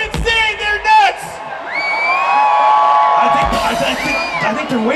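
Rock festival crowd at an Offspring show, Rock on the Range in Columbus, roaring and cheering loudly and continuously with whoops and shouts rising throughout, a dense near wall of voices.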